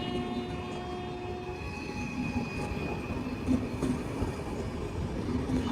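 A train rolls by on rails with a continuous rumble, faint clickety-clack from the wagons and thin, sustained squeals from the wheels on the track. No voices are heard over it.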